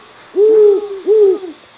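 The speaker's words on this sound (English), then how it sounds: "Owl." An owl gives two long, loud hoots in close succession, each a smooth sustained call, with silence around them.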